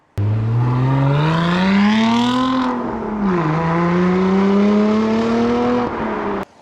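A Lotus Emira V6 fitted with a Larini race exhaust revs hard and close, its engine note climbing, dipping briefly, then rising again in a loud sustained howl before cutting off.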